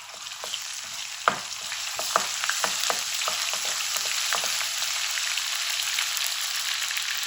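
A spoonful of ginger-garlic paste sizzles and crackles in hot oil, with scattered pops and spatters over a steady frying hiss, fairly close.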